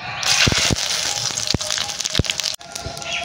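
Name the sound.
bay leaf, dried chilli and cumin sizzling in hot oil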